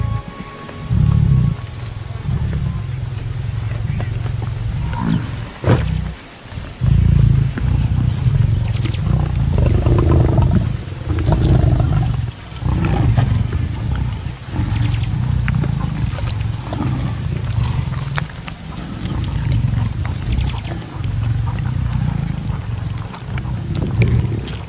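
Lions give deep, rumbling roars in an African wild setting, with loud, sustained low growls and snarls rising and falling almost continuously, pausing only briefly, alongside occasional faint chirps in the background.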